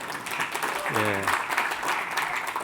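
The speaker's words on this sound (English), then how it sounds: "Can you guys give a bit of applause for these fellas?" Audience applause at a tech conference session, a steady wash of clapping throughout, with a voice briefly speaking over it.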